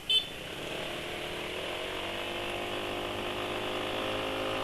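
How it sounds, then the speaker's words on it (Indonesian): A motorcycle engine with rough-running engine noise after 3,000 km on its oil idles steadily nearby with a rough, rattling tone, after a short sharp sound at the start. "Jadi 3000 km sudah kasar suara mesin ini."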